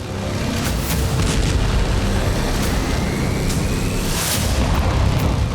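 A deep, sustained roaring rumble of an explosion at a weapons factory in Chelyabinsk, Russia, loud and broadband throughout, with no voices.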